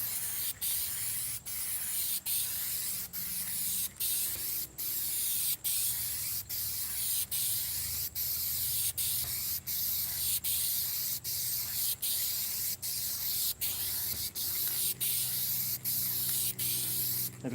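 Spray painting a truck outdoors: a continuous close hiss of the spray gun with regular brief breaks, steady and fairly loud throughout, with no talking.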